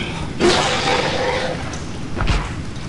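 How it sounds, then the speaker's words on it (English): A star spawn of Cthulhu retches in the video game Call of Cthulhu: Dark Corners of the Earth. A gurgling, splashy burst swells for about a second, then a shorter heave follows, over a low game ambience. "that is the sound of a star spawn of Cthulhu puking"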